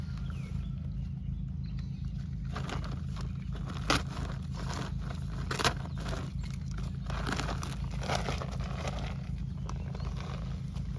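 A bag of fertilizer is handled and chunks inside are broken up by hand, giving scattered crinkling and crunching sounds over a constant low mechanical hum, probably a pump in a greenhouse.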